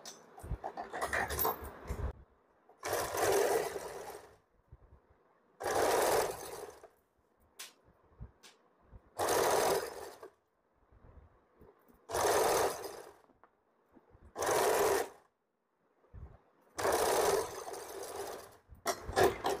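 Sewing machine stitching fabric for an umbrella frock, running in about seven steady bursts of a few seconds each, separated by pauses with handling noise.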